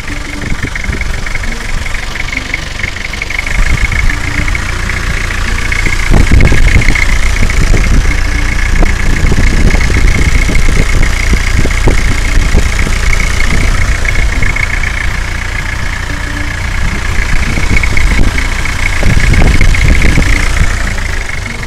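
The diesel engine of a 2001 Toyota Kijang Krista idles steadily nearby with a low, rough rumble and faint rhythmic knock, rising slightly in intensity partway through.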